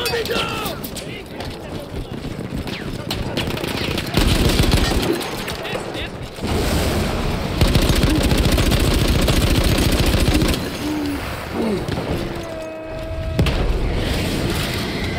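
Heavy, sustained battlefield fire in Battlefield 1, with loud booming blasts and continuous rattling gunshots layered over one another, pressing in close for the whole stretch.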